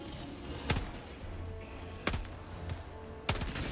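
Rocket launcher pistol fired in Helldivers 2, three sharp, fairly quiet blasts spaced more than a second apart over a low background rumble.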